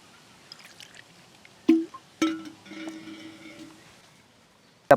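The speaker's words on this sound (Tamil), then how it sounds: "மேலே அப்படியே நல்லா தண்ணி ஊற்றி அப்படியே அலசிப்போங்க" Water is poured over vegetarian chicken pieces to rinse them, two short splashing pours followed by a trickle, fairly close and otherwise quiet.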